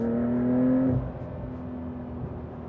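A 2025 Porsche 911 S engine hums steadily from inside the cabin, its note dropping as revs fall around a gear shift, then settling into a quieter, even drone.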